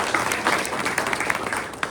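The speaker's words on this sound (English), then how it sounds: "Let's give them a round of applause." Applause for luncheon sponsors Mayho Prentice at a press luncheon, a dense, steady patter of many hands clapping close by for a brief stretch, with no voices over it.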